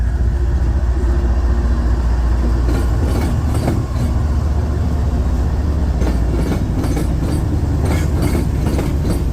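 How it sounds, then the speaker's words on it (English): Freight train led by three locomotives rolls past near an intermodal yard, a loud, steady rumble of wheels and cars with rhythmic clickety-clack bursts and faint wheel squeal throughout, no voices. "3 locomotives on the front."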